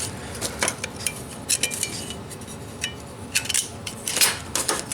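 Metal pieces of an ultralight camping cook set being fitted together, with light close clinks, taps and scraping rattles of thin metal parts coming in irregular bursts.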